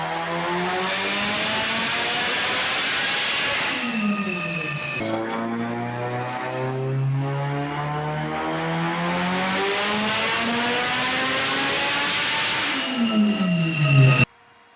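A turbocharged car with a 6466 turbocharger makes a dyno pull at 29 PSI on a Mustang dyno. The engine climbs through long, loud, rising revs, drops back and sweeps upward again, then cuts off abruptly, with no talking.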